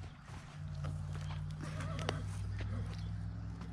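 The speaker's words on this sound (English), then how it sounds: "Can I feed the other horses?" Horses on a farm near Nampa, Idaho can be heard nearby: soft hoof steps and shuffling over a low, steady background hum, with brief snorts or whinnies mixed in.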